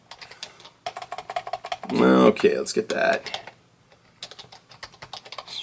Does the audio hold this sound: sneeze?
no